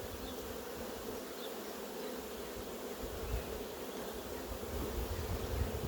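Honey bees buzz steadily and densely around hive frames during a hive inspection, a continuous close hum that swells slightly louder toward the end, with no voices.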